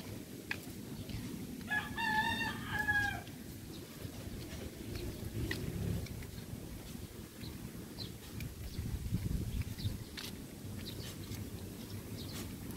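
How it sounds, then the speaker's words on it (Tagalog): A fighting rooster crows once in the distance, then a second faint crow follows, over a steady rumble of wind and rural outdoor background noise. "Siguro mga manok panabong ang laman nun."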